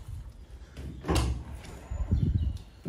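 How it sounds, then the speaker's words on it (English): Rear doors of a Peugeot Boxer 2.2 BlueHDI L2H2 van being opened, giving a sharp mechanical clunk followed by a second rattling latch sound, fairly close against wind noise. "Let's open the rear doors."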